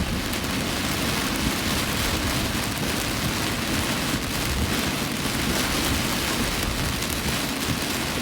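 Heavy rain pours down in New York, a dense, unbroken roar of drops hitting surfaces at steady loudness with no talk.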